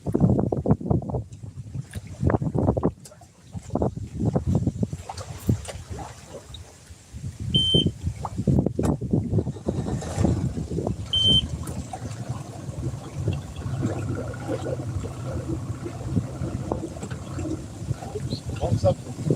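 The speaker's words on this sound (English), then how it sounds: "The wind is kind of fierce." Strong, gusty wind buffets the microphone aboard a small fishing boat out on the water, rumbling in loud bursts with water sloshing beneath and people talking over it.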